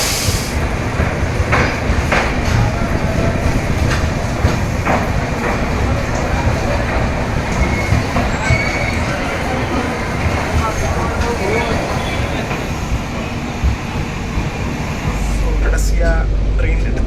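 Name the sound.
Yesvantpur to Chennai train running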